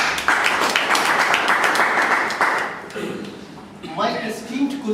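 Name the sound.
audience applause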